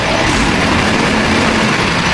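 A 2007 KamAZ Euro dump truck engine runs close by, a loud, dense, steady roar filling the short stretch with no clear rise or fall.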